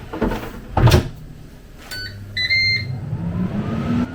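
A Ninja air fryer basket slides back into its drawer with a solid thud, preceded by a clatter, and a brief electronic beep follows as the fryer starts up again.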